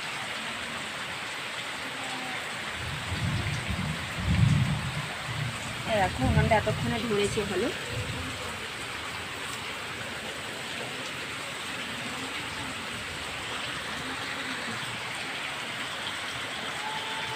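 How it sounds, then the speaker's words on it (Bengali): Steady rain pours down evenly throughout, a dense hiss on a wet outdoor cooking area beside a smoky clay stove, with someone talking briefly and some clattering partway through. "এদিকে বৃষ্টি হচ্ছে"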